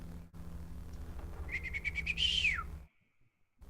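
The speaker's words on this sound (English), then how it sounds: "gives a piercing bird call" A piercing bird call rising as a rapid series of sharp whistled notes into a bright sweeping cry that cuts off abruptly, heard over a low background hum.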